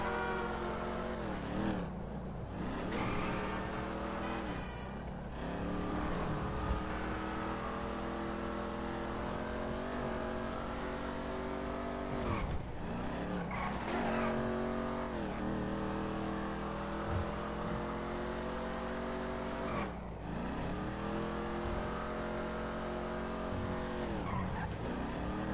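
A car in Grand Theft Auto V is driven hard, its engine revving and shifting through gears with repeated tire squeals and skids, loud and continuous for the whole stretch with no talking.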